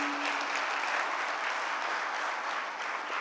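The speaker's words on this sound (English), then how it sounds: "A big applause for Megna and her team" Audience clapping for a businesswoman and her team at an inspirational stage event; a dense, steady wash of applause from a sizeable hall crowd, continuous and moderately loud with no voices.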